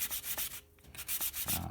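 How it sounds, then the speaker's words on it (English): A cork sanding block rubs back and forth across the surface of a scenery base plinth in quick, scratchy strokes, close by with a short pause midway, no voices. "I could even take a sanding block."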